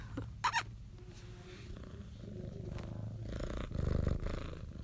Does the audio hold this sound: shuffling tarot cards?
no